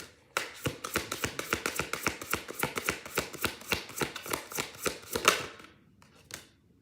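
Tarot cards shuffled in a fast, even run of crisp slapping flicks, close and dry, ending with a final tap after a brief pause.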